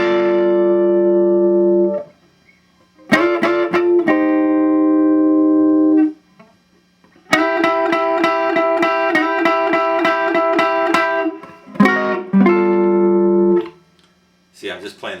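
Slow blues turnaround lick on guitar, played as clear plucked phrases with ringing sustained notes, separated by brief pauses, close and alone.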